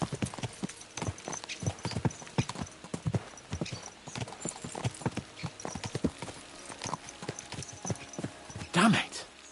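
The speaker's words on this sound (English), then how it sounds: "Let's really spur these horses on, eh?" Horse hooves clip-clopping in the medieval video game Kingdom Come: Deliverance 2, a steady rhythmic run of close, distinct hoofbeats with a brief snort or neigh near the end, under game speech.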